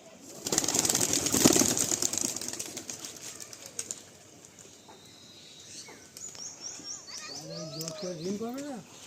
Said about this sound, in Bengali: আমি ঠিক পায়রাগুলো আকাশে দিচ্ছি